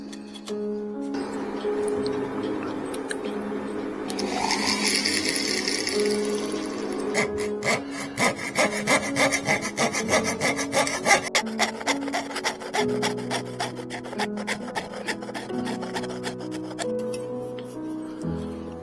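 A small hand saw works through a replacement dial for a Vienna regulator clock along a marked line, rasping in quick, even strokes close by that grow faster and denser over a long stretch.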